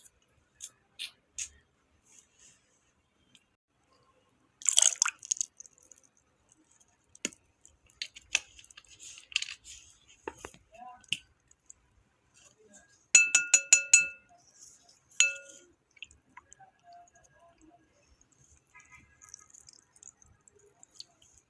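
Slime being stirred and mixed with activator, producing scattered soft squishes, clicks and sticky pops, some in brief rapid bursts, close and quiet against near silence.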